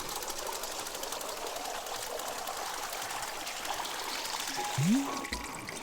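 Water pours steadily from a tea machine in the video game Wanderstop, a continuous trickling flow over light game background sound, with a short rising tone near the end.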